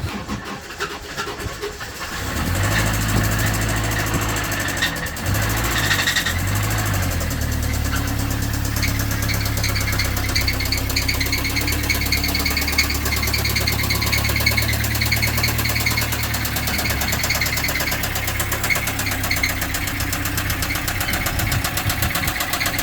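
A 1974 Ford engine that had run out of oil idles steadily after being refilled, a low, continuous rumble with a faint knocking vibration that settles in after a brief rough start.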